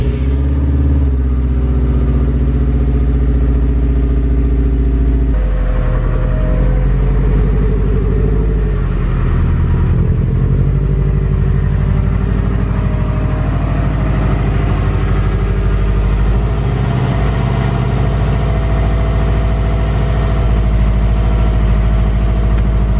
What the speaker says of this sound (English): we were overdue for a new exhaust muffler. It's been this loud for like a month